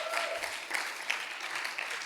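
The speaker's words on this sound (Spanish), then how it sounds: "vamos a darles un aplauso." A church congregation applauds to welcome newcomers, a steady wash of many hands clapping at moderate distance, fairly soft and even for about two seconds.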